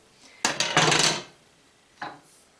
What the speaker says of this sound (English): So we're just going to cut our soap.